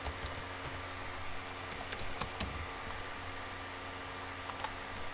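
Sparse clicks of typing on a computer keyboard while Python code is written, coming in short bursts with pauses, fairly close over a faint steady fan hum.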